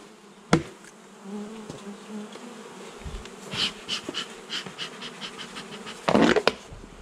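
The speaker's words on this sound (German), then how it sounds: "Auch viele Bienchen auf dem Boden." Honey bees buzz during a hive inspection, with bees also crawling on the ground: a steady nearby drone with rising and falling swells, a sharp knock early on, and a louder burst of buzzing near the end.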